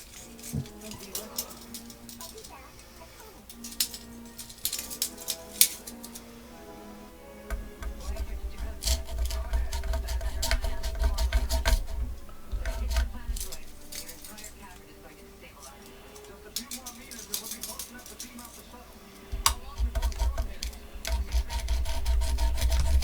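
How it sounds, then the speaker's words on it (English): Filing the nut slots on a Burswood Strat electric guitar, with repeated rough rasping strokes in bursts, fairly close, amid workshop background noise and occasional talking. "let's groove the nut"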